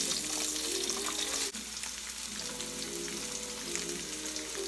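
Mushrooms added to browned, crispy tofu in a skillet give a steady, dense sizzle that carries on throughout, loud and close, with a brief dip in the hiss and no talk.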